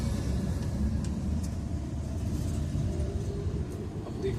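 A Maruti Alto car reverses uphill on a hill road, its engine giving a steady low rumble and drone that holds throughout with no talk over it.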